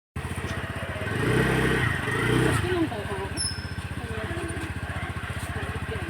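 A scooter belonging to an uncle pulls away with a steady, close engine drone that swells briefly as it rides off, then settles into a continuous hum.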